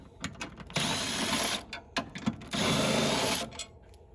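A ratchet spins out 13mm bolts from the passenger-side subframe of a Mustang, giving rapid clicking bursts in two long runs separated by shorter clicks, close and clear with no talking.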